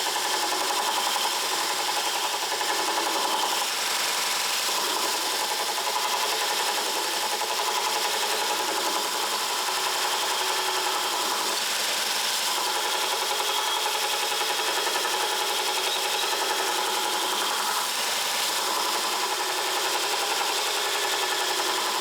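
Pro-Edge belt sharpener running a 240-grit aluminium oxide belt to put a final edge on a woodturning bowl gouge, a steady, loud abrasive whir and grind that holds continuously throughout with no talk.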